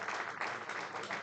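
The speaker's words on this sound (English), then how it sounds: "Listen to the applause for Alex" Crowd at a youth baseball game applauding a base hit to center field, a brief, faint, steady patter of clapping heard from a distance.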